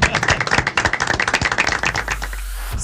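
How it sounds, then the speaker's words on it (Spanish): Close, loud clapping from an audience after a radio-broadcast debate with parliamentary pre-candidates, dense and fast for about two seconds, then quickly fading out. "Un aplauso para todos ustedes."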